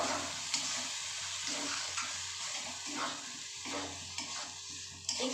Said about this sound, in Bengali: আন্দাজ মতো লবণও দিয়ে দিলাম ভালো করে মিক্স করে নেব